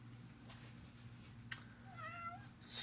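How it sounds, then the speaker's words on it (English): A cat meows once, a drawn-out close call rising above a quiet indoor hum, with a couple of faint knocks nearby. "that's a kitty"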